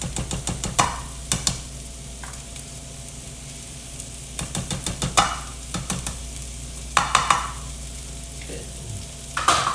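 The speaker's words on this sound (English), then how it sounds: "We're just going to saute them, let them caramelize a little bit in the butter." Onions and peppers sauté in butter with a soft constant sizzle, interrupted by bursts of clinking, scraping stirs at intervals, close by; a voice briefly speaks once.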